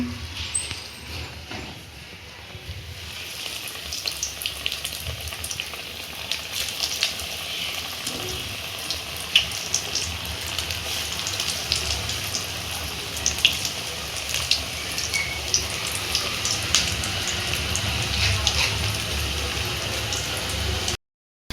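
Aloo cutlets fry in hot oil with a steady, soft sizzle that thickens into a busy crackle with small pops, mostly alone at a modest level.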